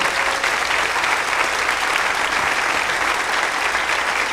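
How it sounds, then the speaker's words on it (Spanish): A church congregation bursts into sustained applause, a thick, even wash of many hands clapping that fills the hall at a steady loudness throughout. "Vamos a darle un aplauso al Señor por toda esta gente."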